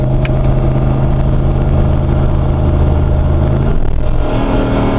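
LS3 V8 engine in a Jeep JK driving down the road, a loud steady drone that holds, then the pitch drops near the end as it shifts gears.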